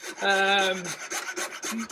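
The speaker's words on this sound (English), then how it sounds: "You can use a coping saw, which this is." A coping saw cuts a wooden skirting board by hand during carpentry work. It makes a rasping, rhythmic stroke sound, starting with one longer drawn-out pull and then quicker short strokes.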